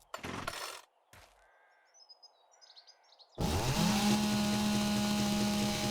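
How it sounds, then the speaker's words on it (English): A chainsaw in the video game 7 Days to Die, preceded by short game noises and chirps, then revs up and runs steadily at a loud, even drone while cutting wood. "I repaired the chainsaw up, and so let's get some wood with this."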